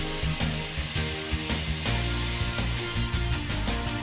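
A PP 2 NC routing and drilling machine works through a profile, giving a steady mechanical whir with repeated cutting and drilling bursts, loud and close, with no talking.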